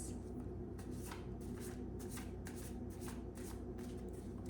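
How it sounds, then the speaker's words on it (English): Tarot cards being shuffled by hand, a soft continuous riffling with repeated brisk flicks over a low steady hum, close and fairly quiet. "I will be pulling a card for you."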